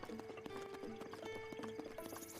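Horse hooves clip-clop at a steady trot in The Legend of Zelda: Breath of the Wild, a rhythmic run of hoofbeats under a faint, tonal game soundscape.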